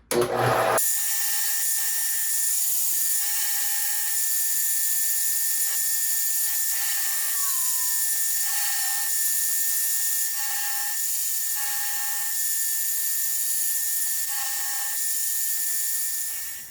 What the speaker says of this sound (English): We got a little bit bigger drill bit here, and we're gonna oversize these holes